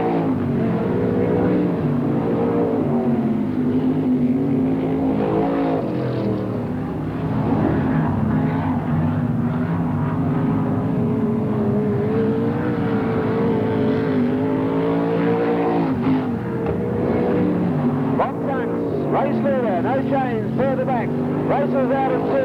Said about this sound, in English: Bob Tunks throws the car in sideways in turn 1 and accelerates out of turn 2.